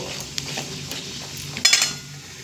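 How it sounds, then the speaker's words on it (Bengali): Whole cumin, whole garam masala and dried red chillies fry in hot oil in a pan with a soft, steady sizzle, broken by light clinks and scrapes of a stirring spoon. No one speaks. "ফোড়নে দেব গোটা জিরে, দিয়ে দেব গোটা গরম মশলা আর দেব শুকনো লঙ্কা। ফোড়নটা একটু ভাজা হতে দেব।"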